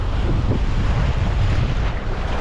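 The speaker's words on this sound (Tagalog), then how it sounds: "Medyo nagalit na yung dagat ah." Rough sea surf and strong wind at a mangrove area, a steady roar of waves with heavy wind buffeting the microphone, loud and continuous with no talking.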